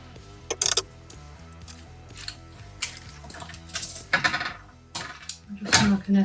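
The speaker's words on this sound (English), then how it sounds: "we just need to cut straight as we can down the fold" Scissors cut fabric straight down the fold for a tote bag, giving a series of sharp, close metallic snips and clicks in irregular bursts over faint background music.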